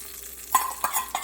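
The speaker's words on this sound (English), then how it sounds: "So it's already sizzling, so I don't want to burn it" Hot oil sizzles and crackles in quick bursts as seasoning is poured onto coconut chutney, with a few sharp spits close by and no talking.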